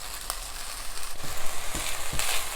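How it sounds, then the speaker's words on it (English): Radish tops and coconut aminos frying in a pan with cooked black rice, a steady close sizzle with a few soft scraping stirs of a utensil against the pan. "Cook and stir for a few more minutes or until the radish tops are wilted."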